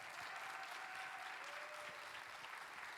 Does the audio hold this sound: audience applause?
yes